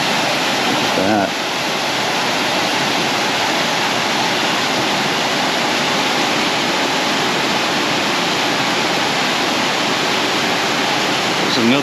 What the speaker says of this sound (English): There's another view of that cascading fall that's over on the north end as it just comes barreling off the top of that